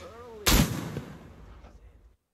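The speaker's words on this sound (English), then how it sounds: "I just shot the gun" A single loud gunshot fired in a video game, a sharp blast that decays over about a second and a half into a fading echo, heard alone.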